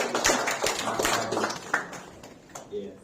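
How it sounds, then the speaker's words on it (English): A small church congregation claps at a Sunday service, a scattered round of applause close by that tapers off over about three seconds. "Let's give a round of applause."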